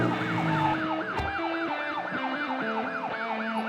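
A police siren from the video game Sally Face wails in a continuous rising-and-falling pattern, loud and close, repeating steadily over a low background hum.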